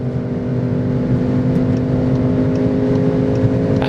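A Skoda Octavia RS Combi with a seven-speed dual-clutch gearbox accelerates on the German autobahn, its engine droning steadily with a smooth, rising hum under constant road and wind noise.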